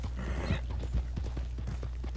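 Horse hooves clip-clopping with a whinny in the video game Red Dead Redemption 2, a short neigh near the start followed by a run of rhythmic hoofbeats over a low steady hum.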